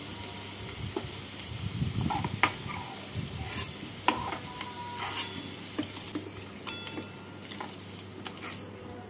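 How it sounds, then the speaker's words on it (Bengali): Fried taro pieces come out of hot oil in a quiet, bubbling sizzle, with scattered sharp clinks and scrapes of a utensil against the pan. "গাঁটি কচুগুলো ভাজা হয়ে গেছে, গাঁটি কচুগুলোকে তুলে রাখছি।"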